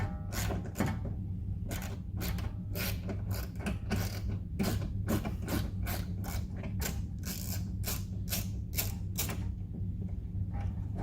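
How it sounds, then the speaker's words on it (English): An 8 mm socket wrench loosens a screw on a 2020 Mini Cooper GP, producing a long run of rapid, close ratcheting clicks over a steady low hum. "Just take our 8 millimeter socket, loosen that all the way up."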